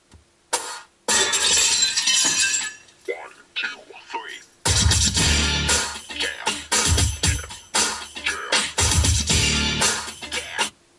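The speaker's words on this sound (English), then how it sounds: "with that smashing glass sound, which is a really good way to kind of audition the high frequency stuff that's going on" Smashing glass effects in a song played over a Subaru BRZ's stock car stereo, repeated crashing shatters in bursts over a heavy beat, loud and close.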